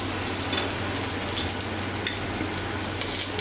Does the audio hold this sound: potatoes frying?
yes